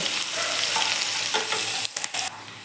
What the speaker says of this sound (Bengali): পেঁয়াজ আমি এই তেলে অল্প ভেজে নেব।